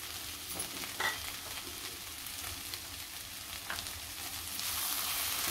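Mushroom masala with turmeric and homemade Koli masala sizzles steadily in a pan, with scattered stirring scrapes and a slight swell of frying hiss toward the end.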